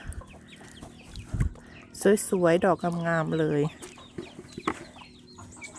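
Several chickens cluck and cackle nearby in a short burst, while someone speaks softly before and after.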